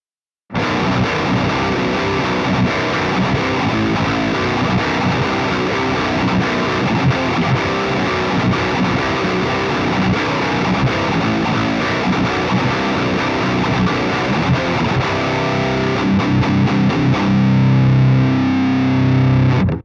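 Heavily distorted electric guitar played through a Revv G3/G4 preamp pedal on its red aggression setting, loud and continuous with dense chugging riffs and sustained chords throughout, no talking.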